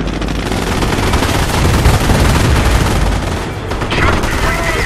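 Machine gun fire in Company of Heroes rattles in loud, rapid, sustained bursts layered with heavier gunfire and battlefield noise, continuing steadily throughout with a brief dip near the end.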